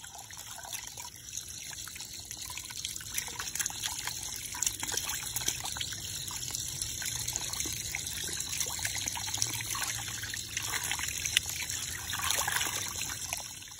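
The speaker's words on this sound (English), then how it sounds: "I can't wait to wring this one out." Water trickles and drips steadily as a wet tie-dyed fabric is wrung out by hand, a close, continuous splashing dribble with no talking.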